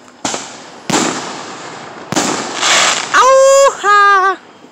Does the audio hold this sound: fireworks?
yes